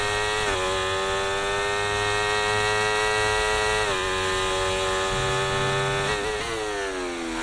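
A Formula 1 car engine in the F1 24 racing game screams at high revs, a steady sustained whine with brief dips at gear shifts, loud and continuous without talk.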